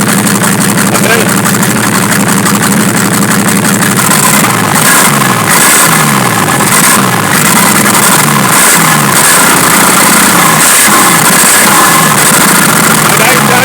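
Chevrolet D60 diesel truck engine idling roughly and misfiring, with a fuel leak nearby, giving a loud, close, uneven chugging rumble with irregular stumbles, while someone talks over it.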